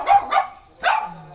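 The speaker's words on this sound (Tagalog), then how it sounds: "Yan po, aso pa." Dog barking outdoors around a house, two quick barks close together, a pause, then another bark, moderately loud and near.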